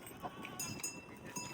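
Goats bleat in short, soft calls at an outdoor shoot with cows nearby, heard fairly faint amid scattered rustling and light background noise.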